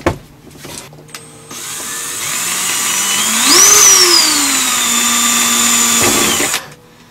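A power drill bores small pilot holes into a pop-up camper trailer roof during a rooftop air conditioner install. The motor is loud and close, revving up with a rising whine, holding steady, then stopping abruptly.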